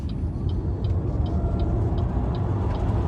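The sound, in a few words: BYD Sealion 7 electric car 0 to 100 launch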